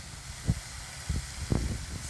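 Cubed pork ribs fry without oil in a medium pan, giving a steady close sizzling hiss broken by a few soft low bumps as the pieces are stirred.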